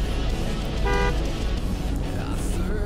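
A car horn in the racing game TrackMania United Forever gives one short toot, loud and close, over continuous engine and game sound.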